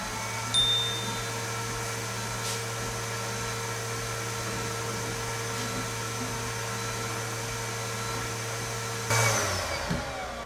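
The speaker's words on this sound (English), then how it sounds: "So at the machine, we are going to be doing a laser engraving." An xTool M1 Ultra laser engraver runs with a steady mechanical hum and airy whir, a constant moderate drone with a few faint ticks and a brief louder shift near the end.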